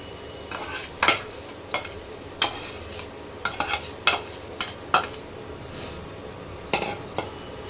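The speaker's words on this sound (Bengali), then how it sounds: "এইবারে এই মাছের পেস্টটা দিয়ে দেবো।" Fish paste worked into a spice mixture in a pan, heard as a run of sharp spatula knocks and scrapes against the metal over a low sizzle, irregular and close.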